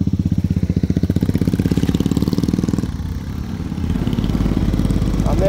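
A motorcycle engine runs close by, a loud, rapid, even putter that dips in the middle and picks up again while riding along a busy market road.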